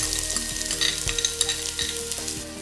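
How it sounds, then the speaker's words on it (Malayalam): Chopped onion hits hot olive oil and ghee in a pan, a steady close sizzle with repeated scraping stirs knocking against the pan, no voices. "ചൂടായ ഓയിലിലേക്ക് നമ്മൾ അരിഞ്ഞു വെച്ചിരിക്കുന്ന സവാളയൊന്ന് ഇട്ട് കൊടുക്കാം."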